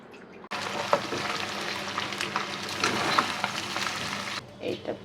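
Beef fries dry in a pan with a steady, crackling sizzle that starts abruptly and holds for about four seconds, then fades into quieter kitchen sounds.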